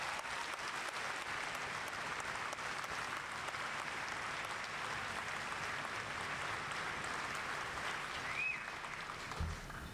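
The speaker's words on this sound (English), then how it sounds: "give another round of applause to the drill sergeants and their families" Sustained applause from a large crowd at an Army graduation ceremony at Fort Benning fills the space, steady and even throughout, heard from some distance.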